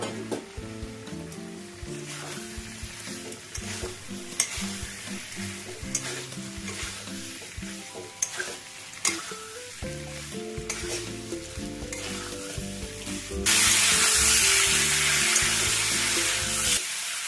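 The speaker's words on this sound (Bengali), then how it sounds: "সেদ্ধ করা আলুগুলো দিয়ে খুব ভালো করে কষবো।" Boiled new potatoes with spice paste in a pan for a vegetarian aloo dum, scraped and stirred with a utensil in rhythmic strokes, then a loud burst of sizzling frying near the end.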